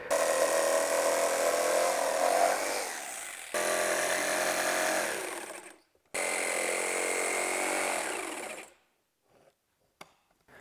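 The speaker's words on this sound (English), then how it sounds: "So I'm going to get the jigsaw back out and cut out the shape." A jigsaw cuts a shape in three loud, sustained bursts of high-pitched buzzing, the middle one separated by short pauses, then falls silent apart from a faint tap.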